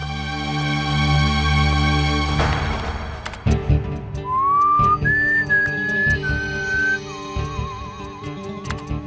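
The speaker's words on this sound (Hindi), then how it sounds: "आप लोग एक एक करके वहां उस केबिन में जाएंगे और माइक के सामने सीटी बजाएंगे।" A person whistles into a microphone inside a small cabin on a TV crime drama, a clear sustained whistle stepping between a few pitches and ending in a wavering trill, over a backdrop of dramatic music.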